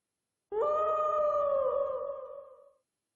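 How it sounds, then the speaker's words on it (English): One loud, sustained howl rises sharply out of silence, holds a long wavering tone for about two seconds, then fades away, with no other sound around it. "The howl's super loud."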